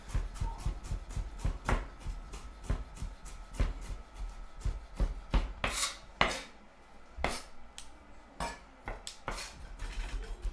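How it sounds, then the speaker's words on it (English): A large piece of ginger chopped finely with a knife on a board, rapid repeated close thuds in a steady rhythm with brief pauses, no voices. "you want to go through it and just chop it as small as you can"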